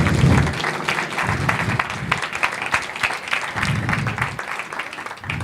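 A comedy club audience gives a burst of applause, lively clapping from a modest crowd that swells and dips over several seconds, with a few low voices mixed in.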